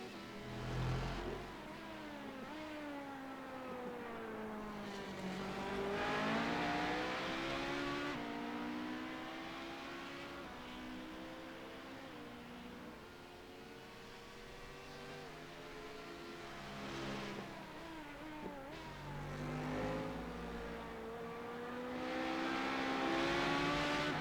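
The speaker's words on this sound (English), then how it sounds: "Morelli stays out, opting to go another lap in his number 14 LMP2" LMP2 sports prototype race cars roar around a circuit during a race, engines rising and falling through gear changes as they pass, a continuous loud drone with no talk.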